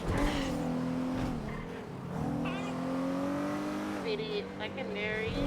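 Car tires squealing as a vehicle flips a U-turn on the Del Perro Freeway in GTA roleplay, a sustained whining squeal with a running engine underneath, close, with a voice talking over it.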